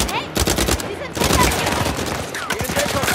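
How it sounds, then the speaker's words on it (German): Rapid gunfire bursts from the Uncharted 4 video game rattle through a chaotic firefight, dense and loud, with a short lull before the shooting resumes. "Schieß mal eine Runde."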